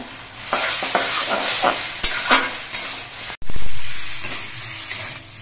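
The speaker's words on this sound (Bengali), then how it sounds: "এবার এই চিংড়ি মাছটা দিয়ে কিছুক্ষণ রান্না করে নিতে হবে।" Fried shrimp sizzle loudly in a pan with taro leaves, stirred in repeated scraping strokes, then a brief gap before a steady, intense frying hiss returns.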